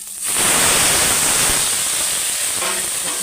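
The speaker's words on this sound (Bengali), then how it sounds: "জল ঢেলে দেবো" Water gushes into a cooking pot holding snails and bottle gourd with salt and turmeric, a loud, close, steady rushing pour that starts abruptly and keeps going for about three seconds, easing slightly toward the end.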